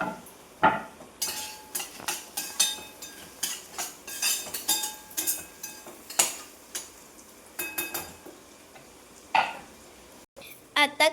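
Golden-brown onion and tomato stirred and frying in a pan for spinach bhaji, with repeated scraping and clinking of a spoon against the pan over a soft sizzle, close and without talk.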